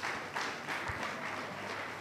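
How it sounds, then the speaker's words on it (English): A church congregation at a Sunday morning service claps their hands together, a dense, continuous patter of many hands filling the room for a couple of seconds. "Clap your hand for Jesus then."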